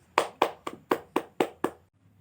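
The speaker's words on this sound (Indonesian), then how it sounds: "Tepuk tangan untuk Murni." A classroom claps for a student named Murni: seven sharp, evenly spaced claps in quick rhythm, loud and close, then a brief quiet.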